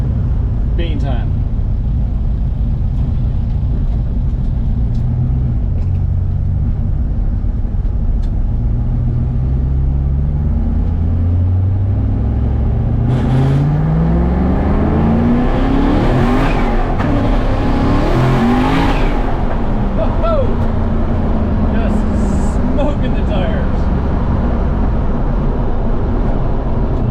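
Turbocharged LS-swapped Mazda FC RX-7 with a Tilton twin-disc clutch pulling hard in second gear: a loud, close engine climbing steeply in pitch as it revs, then easing off, with a steady roar throughout.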